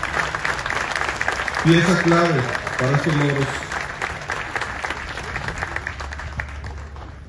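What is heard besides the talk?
applause for the coaches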